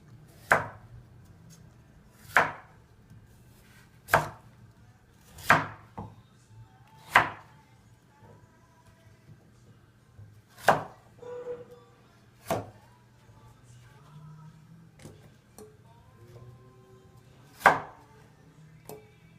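A knife chops through carrot on a board in about eleven sharp, separate strikes with uneven gaps between them, each one crisp and close, and faint kitchen clatter sits underneath.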